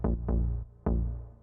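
Dry synth bass line for a melodic house track, with no delay, three plucked notes with sharp attacks that decay quickly, separated by short silences, alone.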